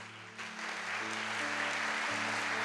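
A church congregation breaks into strong, sustained applause during a Spanish-language sermon, dense clapping swelling in quickly over sustained organ or keyboard tones and holding steady.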